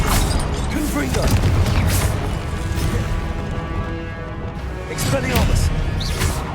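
Confringo blasting spells from the wizarding game Hogwarts Legacy: a dense rumble of booms and crashing impacts, loudest at the start and again near the end, with chanting voices running over the effects.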